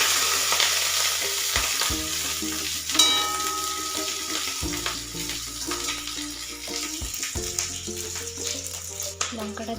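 Green chilies frying in hot oil in a kadai, with a steady close sizzle and stirring clatter running throughout, while tonal background noise continues underneath.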